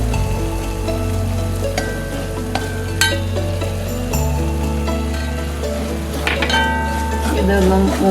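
Spices (chilli powder, turmeric, pepper and salt) fry and roast in a pan for Kerala-style clam roast, with a steady close sizzle, occasional stirring scrapes and clinks, and music playing underneath.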